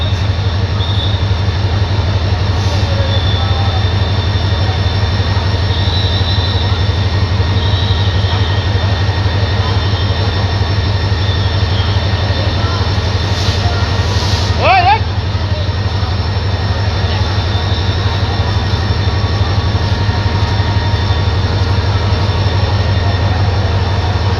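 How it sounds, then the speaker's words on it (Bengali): The Chilahati Express intercity train pulls away from a Kamalapur station platform with a loud, steady low rumble of wheels and carriages and a brief screech midway. "আন্তনগর শিলাহাটি এক্সপ্রেস কমলাপুরের 4 নম্বর প্ল্যাটফর্ম থেকে ছেড়ে যাচ্ছে"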